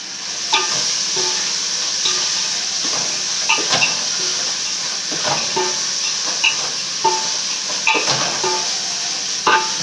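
Ground mint and coriander paste stirred into a hot pan of frying paneer biryani made with seeraga samba rice, a steady sizzle with repeated scraping and clinking of a spoon against the pan.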